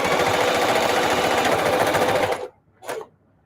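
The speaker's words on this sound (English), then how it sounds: "It's choking on the thick seam. That's because I was sewing fast." Sewing machine running fast and loud for over two seconds while straining through a thick denim seam from old jeans, then cutting out abruptly, followed by one short burst of stitching after a brief pause.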